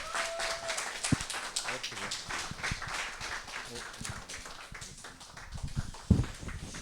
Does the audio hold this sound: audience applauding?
yes